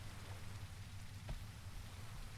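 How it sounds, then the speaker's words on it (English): Rain falls in a video game as a faint, even wash of patter over a low background rumble, with one slightly louder drop or thud near the middle. "Okay, can the rain finally..."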